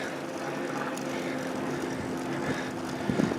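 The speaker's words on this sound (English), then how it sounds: "There's a plane. I have no idea what type." An airplane passes overhead along a rural rail trail, heard as a steady, moderately distant engine drone that holds for the whole stretch with a slight swell near the end.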